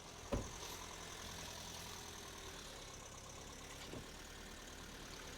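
A Honda Civic's 1.6 engine idles steadily at low volume, a smooth continuous hum, with a couple of brief knocks or thuds near the start and later on.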